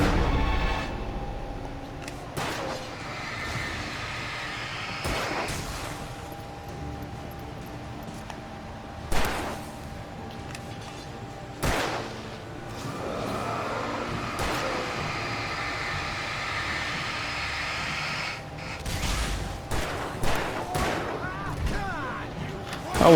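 Gunfire in the video game Alan Wake sounds as sharp, loud shots, some single and some in tight clusters, spaced irregularly across a steady low background rumble.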